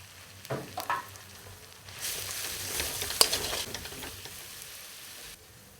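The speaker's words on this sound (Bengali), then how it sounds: "এবার আমরা রসুন বাটাটা দিয়ে দেবো" Garlic paste frying in a pan for a Bihari-style mutton kosha, a steady close sizzle with a louder burst midway as it is stirred, scraping and clinks of a spoon against the pan, no voices.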